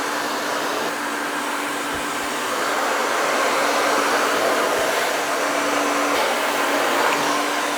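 A hair dryer blows steadily on high heat at low speed while curly hair is scrunched dry in a salon, a loud, even whooshing hum with no one talking.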